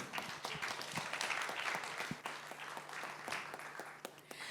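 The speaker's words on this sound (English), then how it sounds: "So a round of applause as they exit the stage." An audience at a small business forum applauds as the business owners leave the stage, a soft, distant, continuous patter of clapping that fades slightly at the end.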